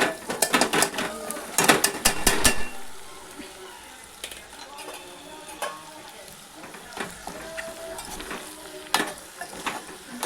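Pasta is gently stirred in a pan. A burst of clattering scrapes and knocks at the start settles into soft, intermittent stirring sounds over a low sizzle.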